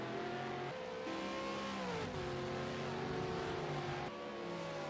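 V8 Supercars racing at Bathurst in a video game, with several engines droning and revving together, pitch rising and falling through gear changes in a steady, moderately loud pack sound.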